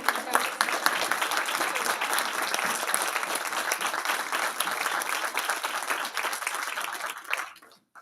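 A luncheon crowd gives sustained, full applause in a room to honor law enforcement members, a dense even clapping that drops away abruptly near the end.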